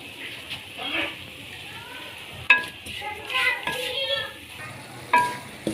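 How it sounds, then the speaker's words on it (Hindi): Semolina halwa with cardamom cooks in a pan over a low flame, with a low sizzle broken by repeated bursts of spoon scraping and stirring, while a voice talks over it. "अच्छे तरीके से आपने सूजी को पकाना है लो फ्लेम पे।"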